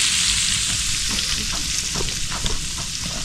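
Buro, fermented rice, sautéing with garlic in a hot pan, a steady close sizzle and crackle of frying with soft stirring scrapes, no voices.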